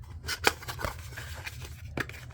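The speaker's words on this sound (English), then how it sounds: "So you just pick a side that has the tape on it and cut it with an X-Acto knife." An X-Acto knife slicing through packing tape on a cardboard shipping box, a few short crisp cuts and scrapes, close and fairly quiet.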